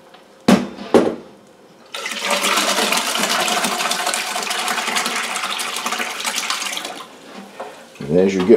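Whey draining from Caerphilly cheese curd into a pot: a steady, close splashing trickle runs for about five seconds, preceded by two brief knocks and followed by a short gurgling sound.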